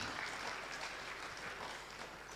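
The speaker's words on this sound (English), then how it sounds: "Clap hands for him as he sits down." A congregation at a Shona church service claps steadily for a speaker taking his seat, a soft, even patter of many hands that fills the whole moment without a break.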